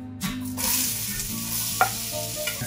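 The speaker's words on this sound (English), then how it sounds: "we're gonna add in our onions" Onions hitting a smoking-hot pan of coconut oil, sizzling and frying steadily with stirring scrapes and a couple of sharper clicks from the utensil, close and moderately loud with no talking.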